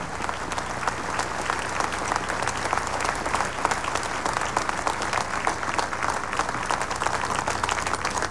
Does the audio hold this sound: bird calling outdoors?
no